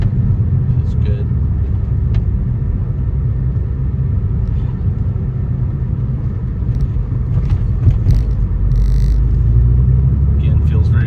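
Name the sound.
1993 Porsche 964 Carrera Cabriolet driving, low speed shifting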